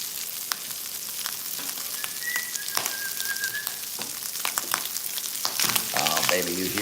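Sausage fries in a hot pan, with dense crackling sizzle and sharp spitting pops running throughout, close and fairly loud, while a faint whistling tone and a brief voice come through near the end.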